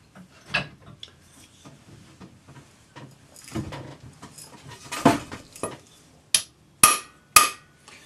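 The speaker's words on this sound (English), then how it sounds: "we're just going to hammer it straight down in with the ball peen hammer" Sharp metallic ball peen hammer blows driving a tapered collet into a collet block, a few scattered taps then three loud, evenly spaced strikes near the end, ringing briefly in a quiet room.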